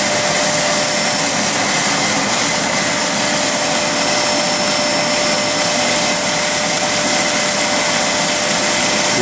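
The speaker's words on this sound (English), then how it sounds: "I'm going to slow the airflow down and you'll see that it sucks up more." A shop vacuum running through a Dust Deputy cyclone separator while winnowing cocoa beans, a steady, loud broadband airflow roar with a faint constant whine, unbroken for the whole stretch with no talking.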